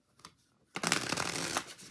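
Tarot cards from a Crystal Keys deck being shuffled, a brief soft riffle near the start followed by a dense, steady run of close paper flutter and card slaps lasting over a second.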